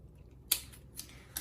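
Scissors snipping a small notch into fabric while sewing a box-style zipper pouch, three short crisp cuts spaced apart, close and quiet in an otherwise silent room.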